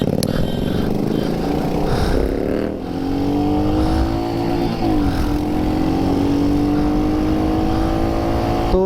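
A Royal Enfield 650 motorcycle accelerates hard through the gears on a city road, its engine note climbing steadily and dropping at each shift, loud and close throughout.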